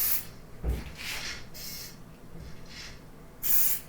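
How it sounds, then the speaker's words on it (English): Short bursts of blue spray paint being applied to a doll, a few separate hisses of varying length, fairly close, with quiet gaps between them and no talking. "So eventually this will cut to me spray painting it with some blue paint."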